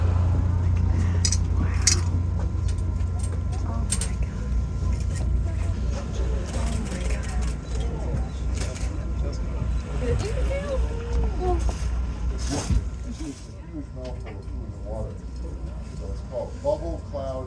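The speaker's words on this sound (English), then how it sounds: "They certainly can hear the boat." A whale-watching boat's engine off Bar Harbor drones low and steady throughout, a constant rumble beneath wind and water noise with people talking over it.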